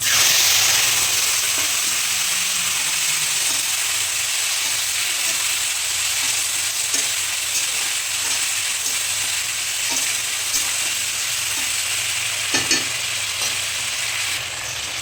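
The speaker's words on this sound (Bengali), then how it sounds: "এবার দিয়ে দিচ্ছি ফুলকপি আর আলু ভেজে নিচ্ছি" Cauliflower florets and potato pieces fry in hot oil with cumin seeds, a steady loud sizzle and hiss throughout with occasional scraping stirs and small pops, no voices.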